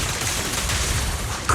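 Rapid rolling gunfire in Zenless Zone Zero forms a dense, steady burst of shots, with a sharper crack near the very end.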